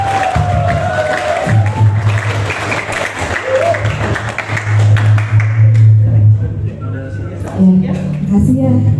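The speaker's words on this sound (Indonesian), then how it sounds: "Berikan tepuk tangan." An audience of students at a youth health counselling session at SMKN 02 Pangandaran claps together in a sustained round of applause. A low electrical hum and talking voices run beneath and through it.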